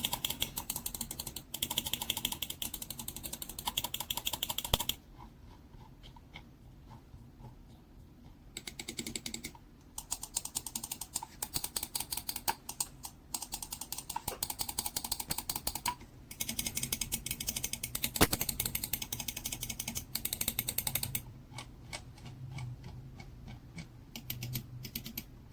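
Gaming mouse buttons fitted with Kaihua white blade micro switches click in rapid, uneven bursts, crisp and close, with a few quieter stretches between rounds of clicking.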